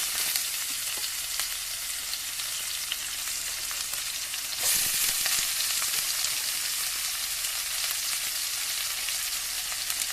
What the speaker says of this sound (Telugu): సజ్జల ఉప్మాలోకి నేను ఈ జీడిపప్పులు కూడా వేస్తున్నాను